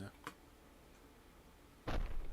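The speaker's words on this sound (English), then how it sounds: "That's quite a solid thud from the chicken" A solid thud as a chicken object lands in a Unity video game: one heavy, broadband impact near the end, after a faint click earlier.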